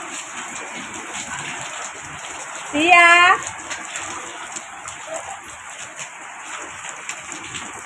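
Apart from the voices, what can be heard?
rain falling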